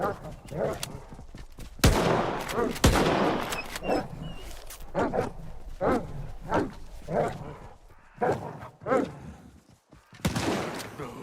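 In a zombie video game, dogs bark and snarl while gunshots crack in bursts, the fight noise loud and irregular with someone talking over it.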